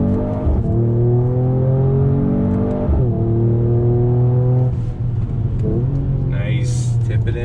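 A 2020 Mercedes-AMG E 53 accelerating on throttle through twisty roads, heard from inside as a loud, steady engine drone that climbs in pitch, drops briefly at gear shifts, then climbs again, with talk over it.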